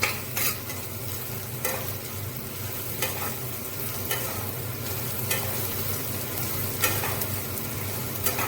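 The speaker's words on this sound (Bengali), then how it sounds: "আদাটাও একটুখানি ভেজে নেব।" Ginger fries in oil in a pan for chana dal, a steady close sizzle broken by regular scraping strokes of a spatula stirring it.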